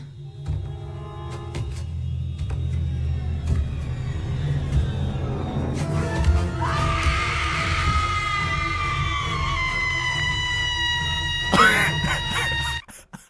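A character in the Rodrick Rules video game screams loudly and at length over a droning game soundtrack, rising in pitch and ending in a sharp, high shriek.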